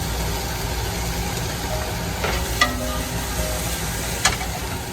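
Onions and garlic frying in a pan for a chicken and eggplant parmesan, giving a steady close sizzle with a few brief stirring clatters and no talk.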